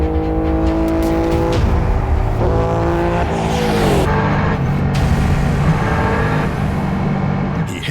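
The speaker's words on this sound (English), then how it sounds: "He hits 209 miles per hour, but the machine struggles to rev cleanly." A streamliner motorcycle on a high-speed run roars loud and close, its engine note rising and dropping unevenly as it struggles to rev cleanly, with strong wind rush and no talk.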